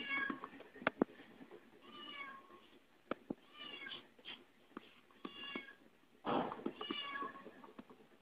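A cartoon cat in a Tom and Jerry show meows over and over in drawn-out cries, broken by sharp thumps and a louder wailing burst near the end.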